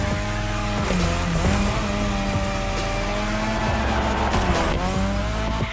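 Race car drifting on a drift track in The Crew Motorfest video game, Japan setting: a loud, sustained engine roar with long sweeping tire squeals and pitch shifts, continuous throughout with no talk.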